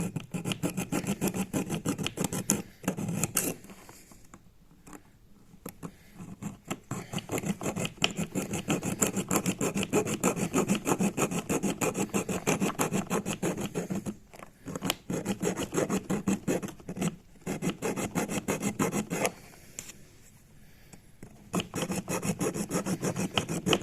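A junior hacksaw rasps back and forth across a brass plumbing olive on a pipe, with steady close strokes broken by a few short pauses and no voices.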